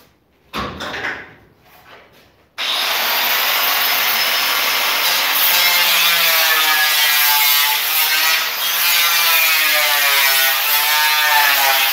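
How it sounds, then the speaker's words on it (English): An angle grinder cuts steel for a post box forge. After a few brief knocks and scrapes it spins up and holds a loud, steady, close grinding whine that continues to the end. "I'm going to go over to the angle grinder again"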